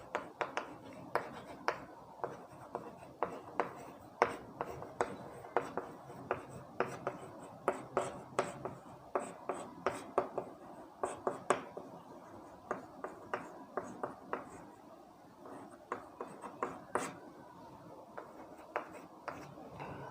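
Hand-written strokes during a Class 10 trigonometry lecture, a quick series of scratchy taps and scribbles of chalk or pen, close and fairly quiet, repeating in bursts with short pauses between them.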